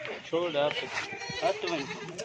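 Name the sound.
goats bleating at a goat farm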